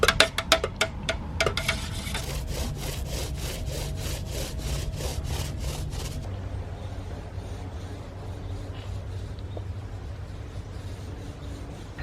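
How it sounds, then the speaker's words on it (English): Wooden shelf boards being sanded along their edges, a quick run of rasping back-and-forth strokes up close, then a steadier continuous scrubbing that softens after a few seconds, no voices. "I'm gonna sand just the edges of these and then paint it just white"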